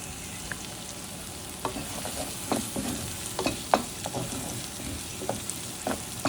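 Spices such as turmeric, chili, coriander, curry powder and cumin are stirred into a browned paste sizzling in a pan. Scraping strokes come at irregular intervals over a steady frying hiss.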